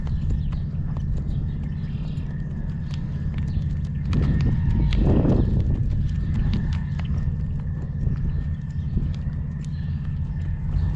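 A horse trots steadily, its hooves clip-clopping in an even rhythm over a constant low rumble, with a brief louder swell midway.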